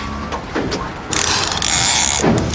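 A fishing reel ratchet buzzes in a loud, rapid clicking rush as a fish strips line off, briefly stopping and then starting again.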